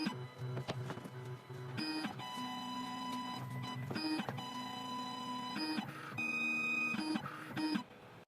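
A 2m2tank CNC key cutting machine cuts a V-shaped groove into an HYN14 key blank, its motor whining and buzzing steadily with stepped shifts in tone and a few short mechanical clicks, moderately close.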